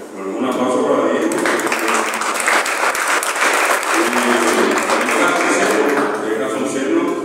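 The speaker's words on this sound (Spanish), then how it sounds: "un aplauso para Diego" Audience applause for a poet at a poetry anthology presentation, loud sustained clapping from a room full of people lasting several seconds, with faint voices mixed in.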